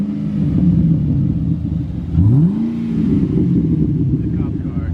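An old police car's engine revs loudly and close, a low steady rumble with one rising rev swell in the middle, surrounded by the ambient noise of a cars-and-coffee meet.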